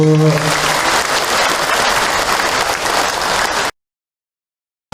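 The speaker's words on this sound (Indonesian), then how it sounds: "Boleh tepuk tangan untuk Kak Hilman, Ibu." Audience applause for a preacher at an Islamic talk, a dense, steady roar of many clapping hands that runs loud for several seconds and then cuts off abruptly.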